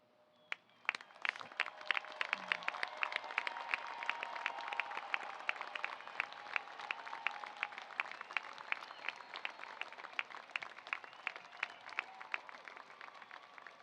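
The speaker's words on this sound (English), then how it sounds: "receive our applause" Steady applause from a commencement audience at an engineering graduation, as honors graduates stand; dense clapping starts abruptly near the beginning and continues evenly without a break, fairly close and full-bodied.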